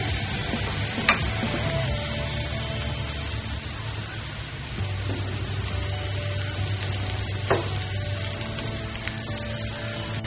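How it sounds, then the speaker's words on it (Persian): Garlic and ginger fry with onion in oil, a continuous hissing sizzle over a low kitchen hum, with a few faint utensil taps. No voices. "حالا سیر و زنجبیل رو اضافه میکنم بهش."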